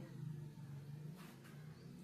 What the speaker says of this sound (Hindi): बाहर की आवाज आ रही है, बाइक जा रही है।